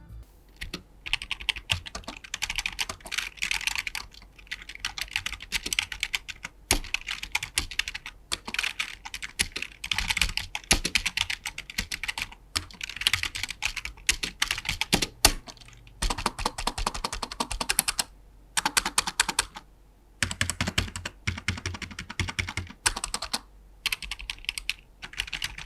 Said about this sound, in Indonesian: keyboard ini tipenya membrane, jadi bukan mechanical